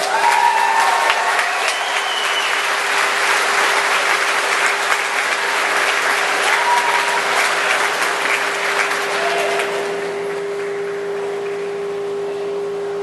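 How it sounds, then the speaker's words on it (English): Warm, sustained applause from a festival crowd for a third-place winner at an Elvis tribute awards ceremony, a thick continuous wash of clapping that holds steady before softening in the final seconds, with a steady tone running beneath. "a warm round of applause for Mr."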